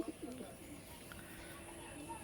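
Pigeons coo softly in a loft, low throaty calls repeating faintly in the background while people talk close by.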